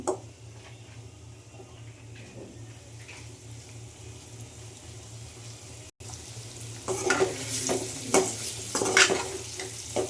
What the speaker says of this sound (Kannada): ನೋಡಿ, ಈ ರೀತಿ ಚೆನ್ನಾಗಿ ಫ್ರೈ ಮಾಡ್ಕೋಬೇಕು.